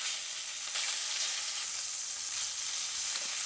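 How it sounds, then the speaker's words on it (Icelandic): Lamb searing hard in very hot olive oil and butter, a steady, loud, close sizzle and fry with faint stirring scrapes throughout and no talking. "Steikja það mjög hratt og örugglega"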